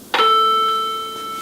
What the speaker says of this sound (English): I have it hooked up to our shop chime module